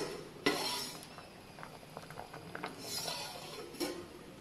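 A pot of ripened mango sambar with coriander is covered, giving a soft metallic clank followed by faint clinks and rattles, quiet and close.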